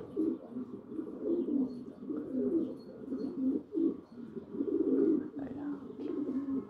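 Pigeons coo steadily on a rooftop, kept in cages beside one another with mesh between them, a continuous murmur of overlapping low, rolling calls with occasional brief chirps.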